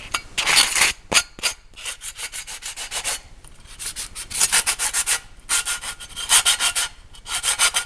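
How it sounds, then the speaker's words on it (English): Sanding pad rubbing over drilled holes on the outside of a small homemade charcoal chimney, in repeated rasping strokes with short pauses between bursts, close and fairly loud, with no talking. "I'm going to take a little sanding pad to them just to kind of make the outside to just smooth it"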